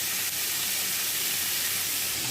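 A dish sizzles as it is fried and stirred down in a pan for kosha, a steady loud hiss of steam and spitting oil with no voices.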